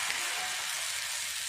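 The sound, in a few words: murungai keerai adai batter sizzling on an oiled dosa griddle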